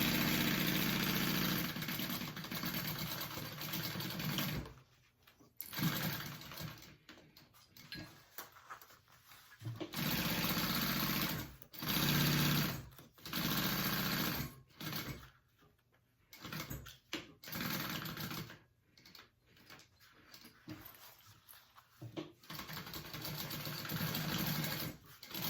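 A sewing machine stitches binding on a classic handbag, running in loud steady whirring bursts of several seconds, broken by brief stops and quiet pauses between seams.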